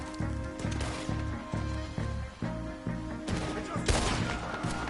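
Gunfire in a Red Dead Redemption 2 shootout, several loud sharp shots and a quick volley over a steady rhythmic game music bed.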